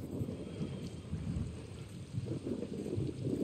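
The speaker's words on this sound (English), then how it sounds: "Seems like there's a storm coming" A thunderstorm rumbles in the video game Far Cry 6, with low, rolling thunder and steady rain washing under it continuously. The sound is fairly quiet, with no talking.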